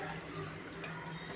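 Water poured from a glass into a pot of sprouted moth bean (matki) curry, a steady close splashing pour lasting over a second with no talk.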